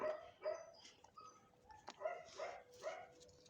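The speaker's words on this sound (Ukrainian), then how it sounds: "он на фоні гавкає, як же ж це він закритий" A small dog barks a few times in the background, faint and somewhat muffled as if shut inside, with short yips in an irregular rhythm.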